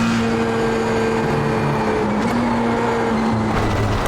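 Formula 3 race car engine in the iRacing sim at Okayama, a steady droning hum that holds a constant tone throughout with broadband road and wind noise, no voices.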